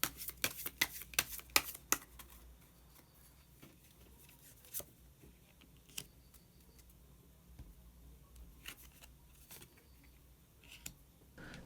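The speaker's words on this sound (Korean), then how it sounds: "그러면 한 장의 카드를 더 뽑고 이야기 계속 나오도록 하겠습니다" Tarot cards are shuffled in a quick burst of crisp riffling snaps, followed by sparse soft clicks and slides as a single card is drawn and laid down. The handling is close and quiet, with no speech.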